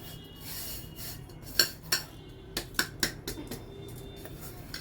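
Sugar stirred into a semolina mixture in a large pan, a soft scraping rub broken by several sharp metallic clinks of a utensil against the pan rim, close and unaccompanied by talk.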